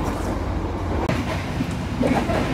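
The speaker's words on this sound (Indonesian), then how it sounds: "Kita memasuki stasiun Pasir Bungur, di mana stasiun ini menjadi salah satu tempat untuk menaruh rangkaian yang tidak terpakai" A Tegal Bahari business-class passenger train rolls into Pasir Bungur station, heard as a continuous low rumble of wheels and carriage noise with faint rail clatter, steady and close throughout.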